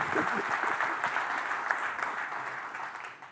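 Audience clapping at a tech conference keynote, a fairly even spread of applause at moderate level, with a few voices faintly audible beneath it as it gradually tapers.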